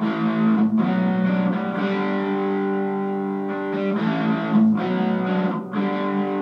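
A distorted electric guitar rings out in sustained, gritty chords, loud and close, with a few brief breaks between strums.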